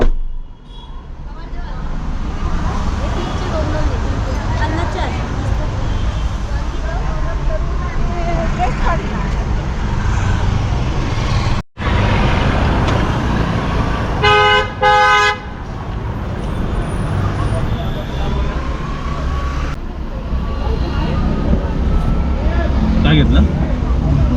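A car drives through busy road traffic, its engine and roadway noise steady throughout, with one clear horn honk midway and people talking over it.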